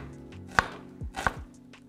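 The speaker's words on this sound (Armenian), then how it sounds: "դանակը այսպես թեքությամբ դնելով մեկ ճեղք այս ուղղությամբ անել եւ սկսել մանր կտրատել" A knife chops food finely on a cutting board, two sharp distinct knocks about a second apart, close and clear with no talking.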